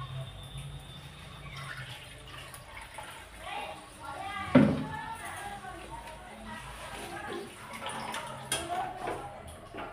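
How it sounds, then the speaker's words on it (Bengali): Water running and splashing as a bowl is washed and partly filled in a home kitchen, a soft intermittent trickle with a small clatter, under someone talking throughout. "এবার এই বাটিটা ধুয়ে অল্প জল দেব।"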